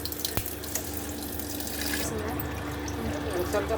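Tap water runs steadily into a sink while cut fruit pieces are washed for juice, a continuous close splashing hiss that grows slightly fuller toward the end.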